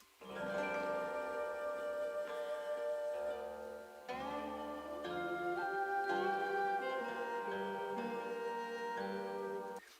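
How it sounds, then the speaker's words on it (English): Gentle traditional Chinese melody on plucked and bowed strings, flowing phrases with sustained bright notes, played at moderate volume without any voices. "kind of nondescript Chinese traditional music sounds like this"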